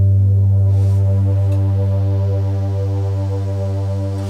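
A deep, steady bass guitar tone holds throughout, with a low synth bass swelling underneath it, loud and droning without a break.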